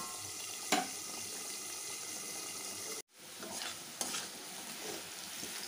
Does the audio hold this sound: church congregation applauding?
no